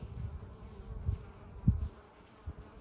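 Honey bees buzz at the entrance of a hive, a faint steady hum with a few closer low thumps as insects pass by, outdoors with no talking.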